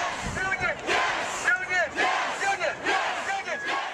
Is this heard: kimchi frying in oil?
no